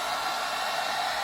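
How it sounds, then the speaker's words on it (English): A hairdryer blasts air over small handmade cork craft pieces, giving a loud steady rushing whoosh with no break. "I take the hairdryer and just give them a little blast"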